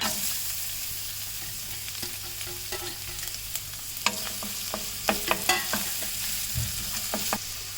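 Chopped onion fries in oil in a kadai, a thick continuous sizzle with a low hum beneath and frequent crisp ladle scrapes and taps, close and steady, no talking.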